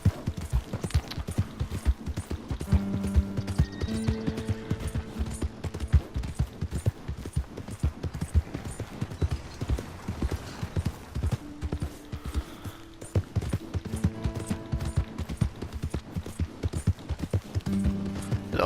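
A horse gallops through the Red Dead Redemption 2 game world, its hooves clip-clopping in a rapid, steady rhythm that runs throughout, alongside faint game ambience and no talk.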